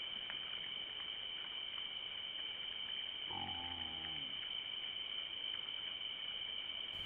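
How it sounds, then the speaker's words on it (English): A feral hog from a sounder entering a trap lets out a single drawn-out grunting call, about a second long, far off over a constant high insect drone. "Observe the sounder's body language and listen to their vocalizations"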